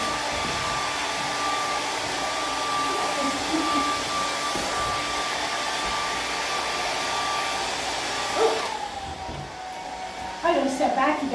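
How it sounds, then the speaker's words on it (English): A hair dryer runs continuously with a loud, steady whooshing blow and a faint whine, close by, then its airflow changes near the end as someone speaks briefly over it. "if we turn the hairdryer on"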